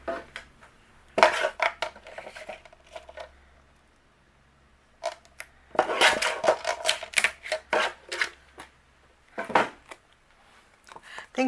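A paper trimmer cuts a cardstock card panel from 3 1/4 down to 3 inches wide, giving several bursts of sharp clicks, slides and blade scrapes close by, separated by quiet pauses.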